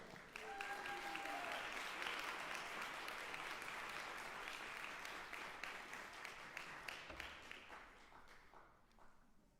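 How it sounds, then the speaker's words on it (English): Sustained applause from a concert audience greeting a youth jazz collective at a university jazz orchestra show, dense clapping filling the room at steady loudness and easing slightly toward the end, with a few brief whistles early on. "One more big round of applause."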